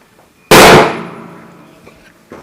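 One loud, forceful blow lands on a folding table, giving a sharp bang with a ringing clang that decays slowly over about two seconds, followed by faint rustling and a small knock.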